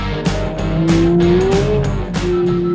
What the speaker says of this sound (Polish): Ale ładnie zmienia biegi, nawet jak lecimy pełnym slajdem.